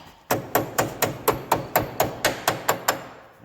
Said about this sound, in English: again with the jewelry hammer